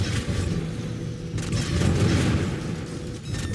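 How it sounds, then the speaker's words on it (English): Heavy ship bombardment in the space game Spacebourne 2, a dense rumbling barrage of booms and bursts that stays loud and sustained throughout, with a sharper blast hitting midway. "Oh shit, they're shooting the ship."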